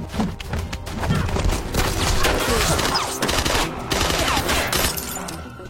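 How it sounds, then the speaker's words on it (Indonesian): Dense gunfire from an action film shootout, rapid overlapping shots and thuds forming a continuous loud barrage throughout. "Agnes juga tengah sibuk berbaku tembak dengan para anak buah Sotang"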